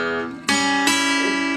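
An acoustic guitar plays a short Delta blues lick, two plucked chords ringing out close and clear one after the other.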